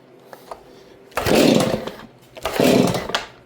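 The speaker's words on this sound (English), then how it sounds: "Hard to start a saw when she's on off." Two loud bursts of a chainsaw engine turning over as the pull cord is yanked, each roughly a second long with a brief pause between, close by and not catching, as the saw's switch is left off; small handling noises come first.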